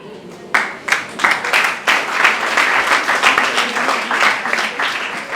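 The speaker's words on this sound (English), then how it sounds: "A better round of applause for that is good." Crowd applause at a birthday celebration held at a school, beginning with a few scattered claps that swell into loud, uneven clapping with individual sharp hand strikes standing out.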